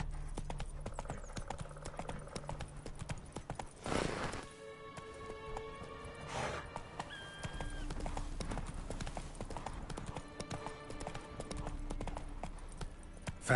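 Hooves of the horse Roach clip-clop at a gallop in The Witcher video game, a steady rhythmic beat with game music and effects in the background, moderately quiet.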